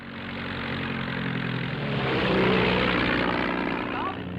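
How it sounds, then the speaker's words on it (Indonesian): A small propeller plane drones steadily nearby, its engine hum swelling slightly louder midway before easing off. "Immanuel dan Anne yang berniat untuk pergi ke pedalaman Afrika dengan pesawat mini."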